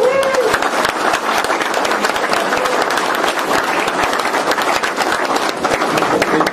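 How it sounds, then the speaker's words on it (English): A large audience at a Tesla event in the Netherlands bursts into dense, sustained applause, loud and continuous throughout with a brief voice at the start. "we would like to have an applause for the Dutch organization, for Tesla, with all your employees"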